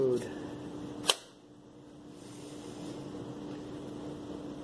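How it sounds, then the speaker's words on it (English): A homemade clothespin gun made with a rubber band fires once with a single sharp snap, preceded by brief talking and followed by quiet room tone. "that is how our rubber band clothespin gun works"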